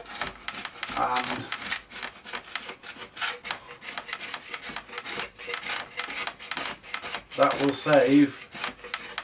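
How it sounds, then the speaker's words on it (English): Excess glue being scraped off wood during restoration of a Bush VHF 41 radio, a rough repeated scraping and rubbing close by, with someone talking over it. "Now scrape the top of that and it'll get the excess glue off"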